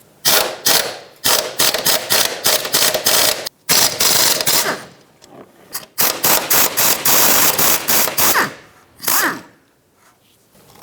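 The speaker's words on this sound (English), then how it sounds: "Up top here you have two 13mm mounting nuts. Let's get both of those off of here." A ratchet removes 13mm shock mounting nuts on a 2013-2020 Nissan Pathfinder, loud close bursts of rapid clicking strokes separated by short pauses.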